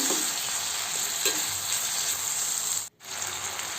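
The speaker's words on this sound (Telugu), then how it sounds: "వీటిని ఆయిల్లోనే బాగా మెత్తబడేంతవరకు ఫ్రై చేసుకుందామండి" Salted tomato pieces fry in oil with a loud, continuous sizzle and a steady stirring scrape, broken by one brief near-silent gap before the sizzle resumes.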